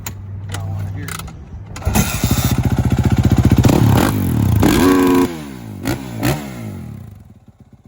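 A used dirt bike starts from cold and idles with a loud, close, rapid putter and popping exhaust beat, plus several quick revs that rise and fall, over a steady mechanical clatter.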